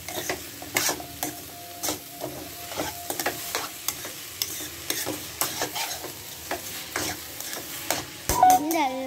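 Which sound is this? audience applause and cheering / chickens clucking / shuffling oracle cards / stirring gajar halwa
stirring gajar halwa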